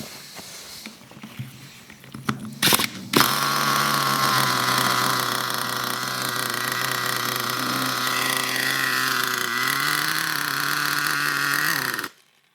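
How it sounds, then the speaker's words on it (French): Traxxas Nitro 4-Tec RC car's nitro engine catching after a few sputters, then running at a loud, steady high-pitched buzz for about nine seconds, with a brief pitch rise near the end before cutting off abruptly. "Allez, un petit démarrage pour le plaisir."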